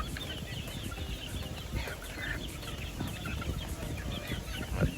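Texas gamefowl chickens on a game farm, scattered soft clucks and rustling at moderate distance over a busy outdoor background, no talk.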